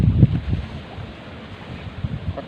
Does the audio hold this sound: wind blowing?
yes